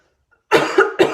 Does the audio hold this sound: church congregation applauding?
no